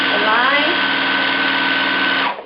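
A sewing machine chain-piecing quilt border units runs at full speed with a loud, close, continuous whirring hum, then stops abruptly near the end.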